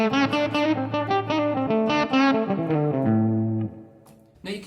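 Electric guitar, a PRS SE245 Standard through a Line 6 HX Stomp, picked near the bridge for a bright, twangy tone; quick picked notes and double-stops ring out, then a held note fades before a final pluck.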